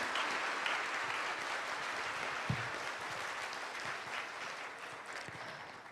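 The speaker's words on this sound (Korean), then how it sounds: "함께 해주신 분들께 큰 박수 부탁드립니다." Faint, even applause from an audience at a 2022 industrial security conference closing a panel discussion, steady and unbroken throughout, slightly softening toward the end.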